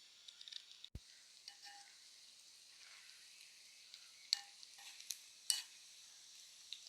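Beef pieces fry quietly in a pan, giving a soft, low sizzle broken by a few sharp clicks and scrapes as the meat is stirred and turned.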